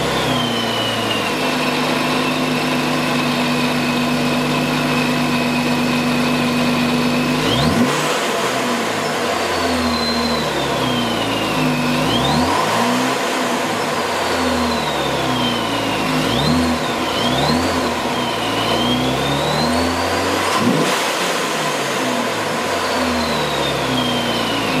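A Jeep Wrangler fitted with a ProCharger supercharger and Diablo tune cranks and fires up about a third of the way in after a steady hum, then idles loudly with several sharp throttle revs, alone without talk.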